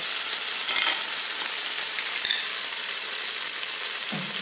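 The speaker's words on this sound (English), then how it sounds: "we're going to brown this roast on all sides to get a bit of a crust on the outside of the meat" Beef roast searing on saute mode in a pressure cooker, a loud, steady, close sizzle with a couple of brief clunks as the meat is moved.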